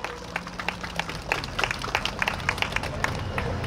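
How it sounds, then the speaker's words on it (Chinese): Audience at a night temple-festival folk performance show in Taipei's Monga district claps to welcome a troupe, scattered sharp claps building into irregular applause over a low murmuring crowd. "让我们最热情的掌声来欢迎景飞凤为我们带来的精彩演出"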